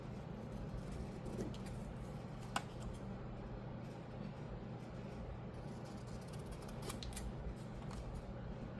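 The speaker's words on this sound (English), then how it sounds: "Now, maybe let's cut these out." Scissors cutting cardstock pieces for a junk journal, a series of faint snips and clicks over a steady low background hum, close but quiet.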